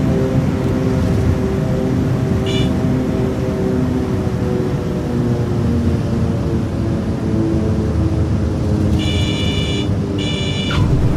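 The twin engines of a Cessna 310R idle in Microsoft Flight Simulator, giving a loud, steady droning hum with layered tones, joined briefly by short beeping buzzer tones.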